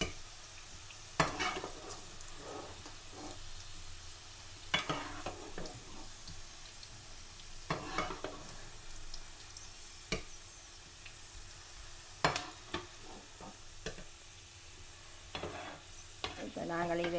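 Garlic fries in oil, sizzling softly and steadily in a pan, broken by occasional sharp scrapes and clinks of a utensil stirring.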